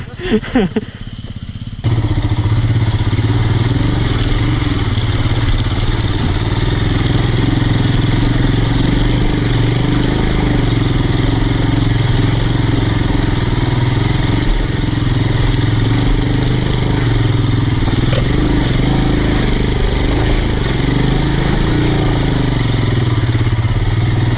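A Royal Enfield Himalayan motorcycle engine runs steadily close by, a continuous loud throbbing idle that holds for over twenty seconds after a brief clatter at the start.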